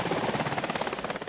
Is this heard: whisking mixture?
no